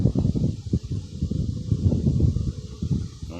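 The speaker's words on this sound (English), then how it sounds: "I know it's windy out here." Wind blowing outdoors, a steady low rumbling buffet against the microphone that rises and falls in gusts throughout, loud and close.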